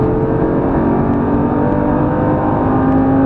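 A Lamborghini Gallardo roars up to speed on a race track, its engine a loud, close, continuous drone that holds steady and strong throughout.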